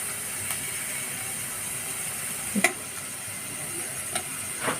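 Onion and urad dal fry in hot oil for rava upama, giving a faint steady sizzle with a few soft stirring scrapes and clicks.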